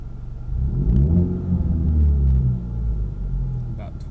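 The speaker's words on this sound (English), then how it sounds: "So I want to give you all a little bit of revs from the inside." Ford Mustang EcoBoost engine revved while parked, heard from inside the cabin: a loud low rumble climbs and falls through several rising revs, steady and close, with a voice briefly at the end.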